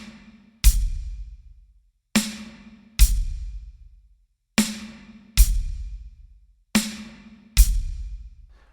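Drum kit beat with a sharp snare hit followed by a hi-hat struck together with the bass drum, seven crisp, evenly spaced hits ringing out alone and close.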